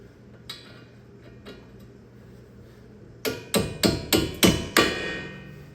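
Wheel hub bolt being driven in on a 2003 Ford Escape during a wheel bearing replacement: after a quiet stretch with a couple of faint taps, six sharp, loud metallic hammer blows in quick rhythm ring out near the end.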